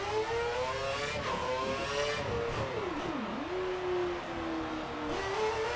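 Race cars from the F1 2013 video game at the Singapore night race, engines whining steadily with rising and falling pitch as cars pass, including one sharp dip near the middle, loud and continuous with no talk.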